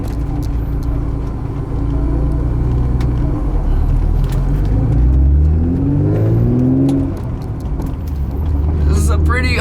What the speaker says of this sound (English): just so you guys can hear the car from the inside